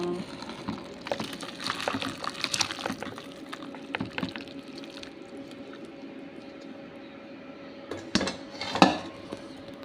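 A cooked Filipino dish for dinner is poured from a pot into a container, with soft liquid sloshing, spoon and metal scrapes and clinks close by, and a louder clatter near the end.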